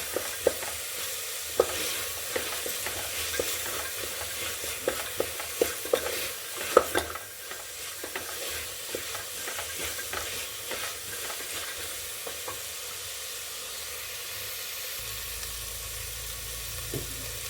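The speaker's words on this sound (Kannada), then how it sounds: "ಈಗ ಮಸಾಲೆ ಫ್ರೈ ಆಗಿದೆ. ಇವಾಗ ಅವರೆಕಾಳು ಹಾಕ್ಕೊಳ್ಳೋಣ." Masala and field beans (avarekalu) sizzle and fry in a pan while a spoon scrapes and stirs in frequent small clicks, a steady low crackle with no voices.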